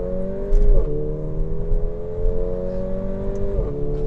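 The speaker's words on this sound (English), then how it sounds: "the engine and the sound that it makes" A 2018 Mercedes-AMG GLA 45 engine holds a steady, close droning hum under load, with small gear-change dips in pitch around the first second and near the end.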